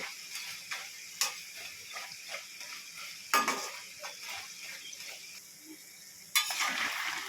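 Nimki sizzling as it fries in hot oil while being gently stirred, a steady crackling bed broken by regular soft scraping strokes and a few sharper clatters, close and moderately loud with no voices.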